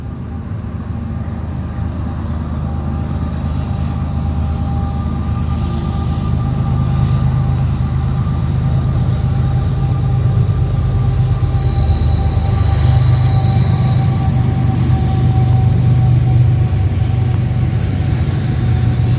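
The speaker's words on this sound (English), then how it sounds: "And a train coming." A train rumbles past steadily with a low, continuous roar, faint squealing tones riding above it throughout.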